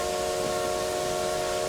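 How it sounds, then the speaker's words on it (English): The steam whistle of a South African Railways Class 24 locomotive in Train Simulator, on the Outeniqua Choo Tjoe route, blows as one loud, steady chord with a breathy hiss and no break. "Take the opportunity to blow the whistle."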